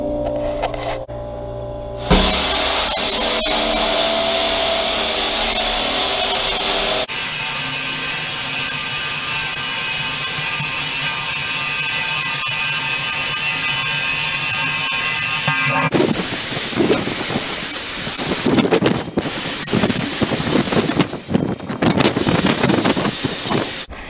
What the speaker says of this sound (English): that's in good spot now for the plasma cutter